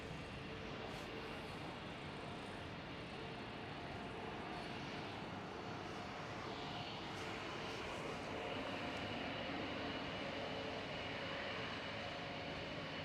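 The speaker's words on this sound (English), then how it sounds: "Delta Airlines A330 lining up." A Delta Airlines Airbus A330 lines up on a Schiphol Amsterdam runway, its engines giving a distant, steady, faint roar and rumble that holds evenly throughout.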